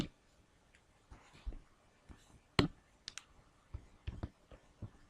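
Pen or pencil writing out a trigonometry sum identity, sine 30 times cosine 45 plus cosine 30 times sine 45, with scattered soft taps and short scratchy strokes, close and quiet, no talking.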